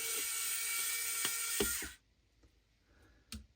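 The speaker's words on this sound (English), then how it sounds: "So I'm going to take out the screws first" An electric screwdriver whirs steadily as screws come out of a Claw8ai joystick, the buzz cutting off after two seconds, followed by quiet and a couple of small clicks and taps of parts being handled.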